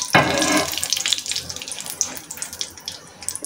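Rayna (veda) fish pieces fry in hot oil, a bright sizzling hiss that flares up sharply, then settles into steady crackling and spitting at close range.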